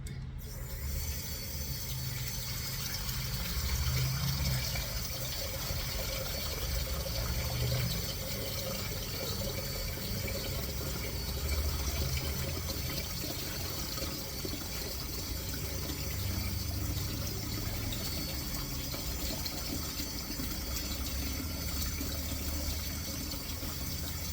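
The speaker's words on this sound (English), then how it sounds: "Put hot water in the bowl because you're going to have to rise it." Hot water runs steadily from a tap into a bowl for about twenty-four seconds, a continuous broadband rush while bread dough for sweet breakfast rolls is being prepared.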